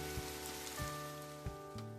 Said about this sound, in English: Oh, thank God the rain sound effect is gone.